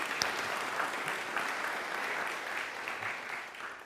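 A church audience gives committee members a round of applause, a steady, fairly quiet wash of clapping from many hands lasting the full few seconds.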